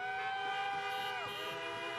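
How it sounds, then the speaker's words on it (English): Car horns honk together at a drive-in political rally, a layered chorus of steady and gliding tones heard from some distance at moderate volume. "Despite the honks of approval"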